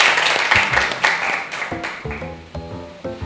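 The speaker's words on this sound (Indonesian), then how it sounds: "Mari tepuk tangan untuk kita semua." Classroom applause from students, a burst of many hands clapping that starts dense and loud, then thins into scattered, separate claps as it fades out over a few seconds.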